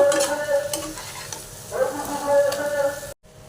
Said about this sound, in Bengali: সেই পনিরটা গেট করে রেখেছি এই যে দিয়ে দিচ্ছি গেট করে নিয়েছি